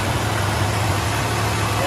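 An original classic muscle car without headers idles smoothly and quietly. The engine makes a steady, even rumble throughout, and a voice may be faintly present underneath.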